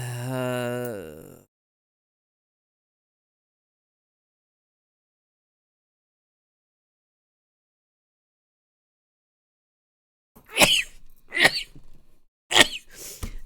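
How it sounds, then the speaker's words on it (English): Three sharp, loud sneezes burst out in quick succession near the end, following a brief stretch of talk and a long silence. "excuse me for sneezing"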